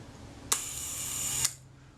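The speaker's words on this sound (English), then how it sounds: "We fire the shutter." A Voigtländer Vito B camera shutter fires with a sharp click, followed by a steady whirring buzz for about a second that ends in a second click, close up and alone.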